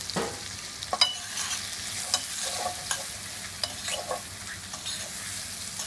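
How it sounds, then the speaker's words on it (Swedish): Peppers, broccoli, red onion and chili frying together in a pan, with a steady sizzle and scattered crackles and stirring scrapes close up, no voices. "Paprika, röd, gul, broccoli, rödlök, grovhackat och chili. Allt ska stekas ihop."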